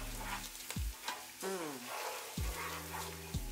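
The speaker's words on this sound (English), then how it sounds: "then just cook that for around about 2 minutes until all the lovely garlic and the ginger has taken a beautiful aromatic flavour" Garlic and ginger fry in a pan for a curried chicken dish, a soft continuous sizzle broken by a few low knocks and scrapes of stirring, with no voices.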